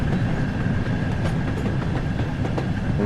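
Rolling train in Train Sim World on the Peak Forest line between Buxton Midland and Manchester Central, Jubilee locomotive: a continuous low rumble with soft, irregular wheel clicks, steady and fairly close throughout.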